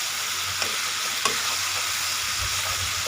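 Blended chili paste simmering and thickening in a pan for sweet, sour and spicy salted fish, a steady soft sizzle and bubbling hiss with a couple of faint clicks, close and alone.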